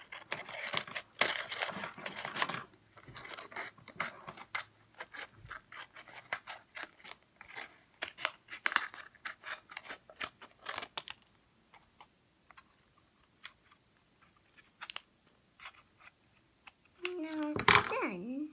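Scissors snipping through paper while making a paper microphone, a close run of quick crisp cuts with short pauses, a voice talking in the background and a louder clatter near the end.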